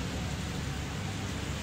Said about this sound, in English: it's currently raining, so if you see my screen looking a little wet